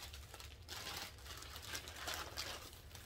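A Dooney handbag packed flat inside a plastic bag gives off faint, continuous crinkling and rustling, with the plastic shifting in small bursts throughout.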